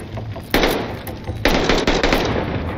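Gunfire from the Call of Duty Vanguard campaign, loud overlapping bursts of rapid shots and impacts with sharp onsets, arriving in several heavy waves.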